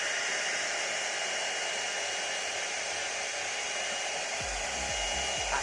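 A Kmart rotating hot air brush drying wet hair gives a steady, loud blowing whir that holds evenly throughout, with a brief low rumbling bump near the end.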